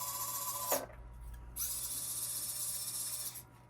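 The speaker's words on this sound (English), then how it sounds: "I'm just going to get my electric drill bit" An electric drill whirs through a small wooden earring in two bursts, a bright, steady high-pitched whine broken by a short pause, close and fairly quiet.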